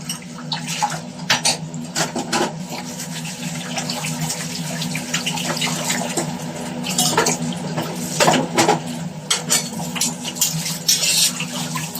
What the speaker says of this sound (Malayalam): ഇപ്പൊ പാത്രമെല്ലാം കഴുകി